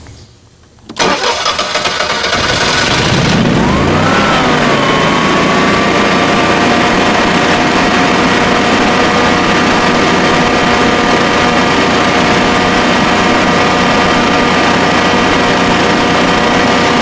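A Generac generator cranks and fires up after a pause, then runs loud and close with a steady whining engine drone that holds evenly throughout.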